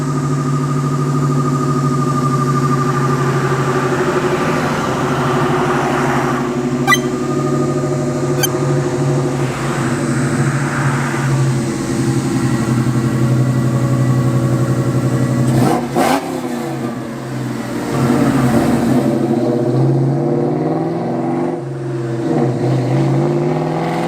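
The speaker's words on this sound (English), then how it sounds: "you can totally hear the blower" Kenne Bell 2.1 supercharger on a 1996-98 Ford Mustang Cobra, a steady engine drone with a high whine riding over it through a long drive, with rises and dips as revs change.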